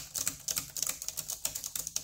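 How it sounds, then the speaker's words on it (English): Keys clicking on the mechanical keyboard of an Eluktronics Mech 15G2 laptop, a quick irregular run of crisp, close taps with no talking. "obviously it can be a little bit clicky compared to a membrane keyboard"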